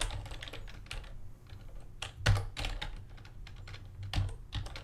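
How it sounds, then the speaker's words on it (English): Close, brisk typing on a computer keyboard while writing game code, with irregular clusters of key clicks and a couple of heavier thumps like a spacebar or enter key, and no voices. "Okay, type it."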